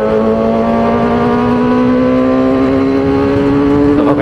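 Loud, close motorcycle engine revving steadily while riding on a road, with a sustained tone that climbs slowly in pitch and no voices.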